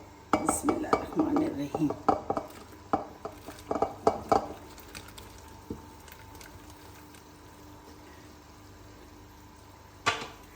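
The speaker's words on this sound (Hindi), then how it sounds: "अब इसमें हम ये सारे पकोड़े डाल देते हैं।" Fried pakoras are tipped into a pot of simmering kadhi and stirred, with a quick run of close metal clanks and scrapes that then fades to a quiet bubbling lull before one last clink; a voice speaks briefly at the start.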